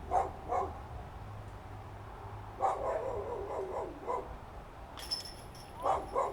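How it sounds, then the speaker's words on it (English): A dog barks in short bursts near a disc golf course at Expo Park, its barks coming in three separate clusters over steady outdoor background noise. "I can't even make this dog shut up"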